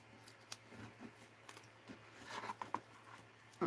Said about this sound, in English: I'm going to cut some with my knife rather than the scissors until I get some